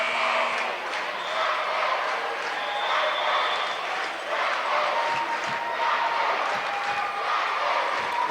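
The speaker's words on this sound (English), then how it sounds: "Crowd yelling Jackets." Crowd at a 1985-86 small-college basketball district championship game between Waynesburg and Westminster, a steady loud roar of chanting and yelling filling the gym, with faint bounces underneath.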